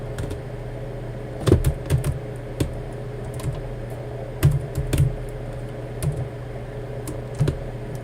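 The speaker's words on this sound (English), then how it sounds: "I'll try typing on the other computer." Typing on a computer keyboard, heard as short bursts of sharp key clicks in small clusters over a steady low background hum, moderately close and with no talking.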